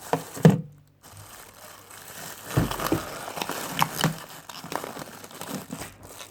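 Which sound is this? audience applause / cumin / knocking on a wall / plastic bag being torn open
plastic bag being torn open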